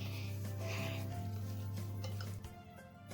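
Pancake batter being stirred in a bowl, a close, brief rubbing and scraping of the utensil against the bowl over a steady low hum, fading slightly near the end with no talking.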